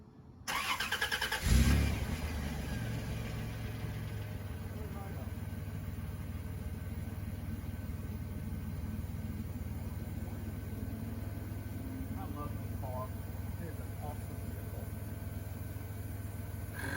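A car engine cold-starts on a chilly morning around 40 degrees: a brief cranking burst, then the engine catches and settles into a steady, close idle that continues throughout.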